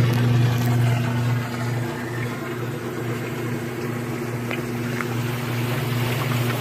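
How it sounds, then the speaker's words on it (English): A Costway mini washing machine spins its drum without agitating, giving a steady loud motor hum with a whooshing, rushing wash of noise that holds constant throughout. "Not agitating, just spinning."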